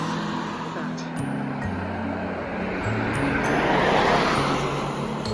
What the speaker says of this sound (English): Mind you, the cars.